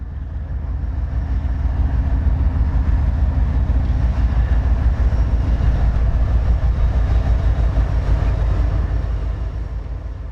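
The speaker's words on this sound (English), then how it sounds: "We got a train coming through making all kinds of noise." A train rolls through the Bruce Vento Nature Sanctuary, a loud, steady rumbling roar with rail clatter that swells and holds close for the whole stretch, then eases slightly at the end.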